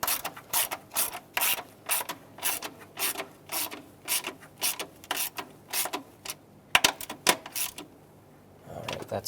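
Quick repeated ratchet clicks from a hand ratchet snugging intake manifold bolts on a 2008-2010 Ford F250 Super Duty 5.4L V8, close and crisp in steady bursts with short pauses, ending with a brief gap and some handling noise.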